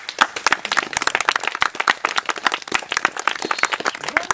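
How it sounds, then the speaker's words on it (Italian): Wedding guests clap and applaud steadily for a few seconds after a ceremony, dense, lively hand claps filling the space, no voices standing out. "Un applauso."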